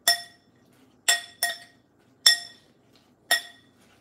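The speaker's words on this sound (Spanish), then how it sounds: "Perdón por ese ruido de la cuchara." A spoon clinks against a dish while a cabbage and carrot mixture is stirred, five sharp bright ringing taps spaced irregularly, close and alone in a quiet kitchen.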